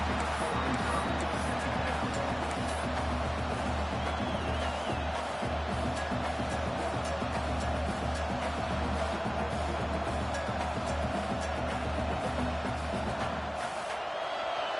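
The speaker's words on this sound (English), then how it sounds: "Listen to this crowd just shaking the girders of this place, trying to help their defense" A packed stadium crowd roars continuously at a college football game between Arkansas and Oklahoma in College Football 26, a dense, steady wall of cheering that holds at a constant level before thinning out near the end.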